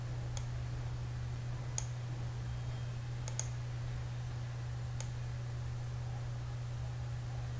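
A few sparse, faint computer mouse clicks, some in quick pairs, while sculpting in ZBrush, over a steady low electrical hum with no talking.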